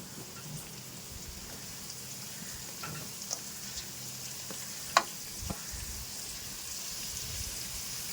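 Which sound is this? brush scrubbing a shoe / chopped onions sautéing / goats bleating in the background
chopped onions sautéing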